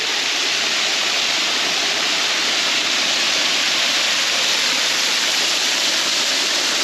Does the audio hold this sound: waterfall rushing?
yes